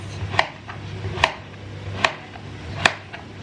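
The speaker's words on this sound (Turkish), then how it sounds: "Ben şimdi bütün malzemelerimi doğrayıp hemen geliyorum." A knife chops vegetables on a cutting board in four evenly spaced, crisp strikes, close and clear, with a faint low hum behind.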